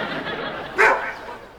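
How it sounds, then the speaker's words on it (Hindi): A single sharp dog bark rings out once at a property where many dogs are kept, fairly close and brief, standing out over quiet background murmur. "बहुत कुत्ते हैं यहाँ।"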